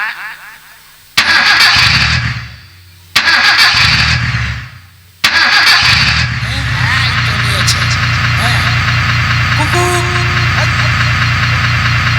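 A motorcycle engine is started after two short cranking bursts, then catches and settles into a steady, close idle. Voices are heard during the cranking.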